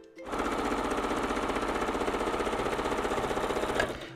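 A sewing machine stitches strips of fabric together for a pouch, a steady rapid mechanical whirr heard close up, starting abruptly and stopping just before the end.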